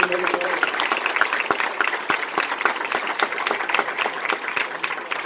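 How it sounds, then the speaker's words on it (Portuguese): An audience applauds in honor of the São João festival, a sustained wash of many hands clapping at moderate distance with no voices on top. "Vamos aplaudir São João e a festa do"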